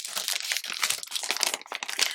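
Plastic packaging bag for a new design release crinkles and crackles continuously at close range, a dense run of sharp rustles with no talking.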